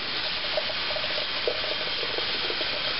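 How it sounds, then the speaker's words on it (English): Tap water pours steadily into a kitchen sink over drained cooked potatoes, a continuous near splashing hiss with no talk. "And now I'm going to go drain water over the potatoes to stop them from cooking."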